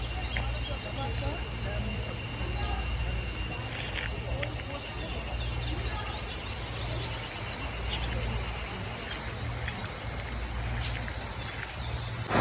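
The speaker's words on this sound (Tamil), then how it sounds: "அந்த சில்வண்டுகளோட சத்தம் நல்ல ரீங்காரமாக கேட்குது." Cicadas in the Arunachal Pradesh countryside drone in a loud, continuous high-pitched buzz, steady and close, filling the whole stretch with no break.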